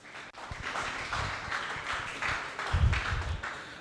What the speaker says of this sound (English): Please give a big applause to GPS Fleet.